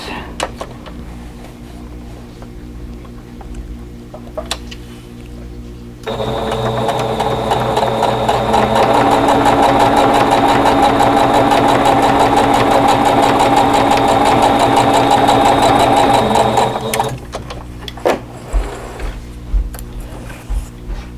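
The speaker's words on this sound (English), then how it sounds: "keep that miter as I am sewing these together" A sewing machine runs steadily for about eleven seconds while joining mitered pieces of a table runner, a loud, even mechanical whir with ticking, framed by quieter handling and hum before and after.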